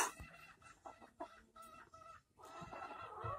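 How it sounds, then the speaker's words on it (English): Several chickens cluck nearby in short, irregular bursts around a hen laying an egg, with a louder rustling flurry toward the end. "All your friends are clucking."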